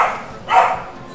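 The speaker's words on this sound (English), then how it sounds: "sorry about my dog barking" A dog barks once at close range, a single short bark standing out over quiet background noise.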